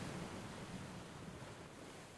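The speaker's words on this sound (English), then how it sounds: "Oh, they can hear waves?" Ocean waves played as a sound effect on a live stream, giving a steady, loud wash of surf noise with no talking.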